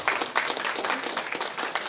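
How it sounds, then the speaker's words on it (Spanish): An audience claps warmly for Dr. Frank Robert Almanza Altamirano before his talk, a close, dense burst of many hands with sharp individual claps standing out. "Demos un fuerte aplauso al doctor Frank Robert Almanza Altamirano"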